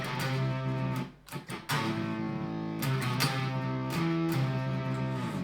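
Buzzy electric guitar through a Frederick Effects Dresden Synth Fuzz pedal playing sustained single notes with a brief glitchy dropout, loud and close with no talking.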